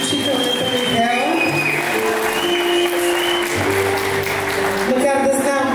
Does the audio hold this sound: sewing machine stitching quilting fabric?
no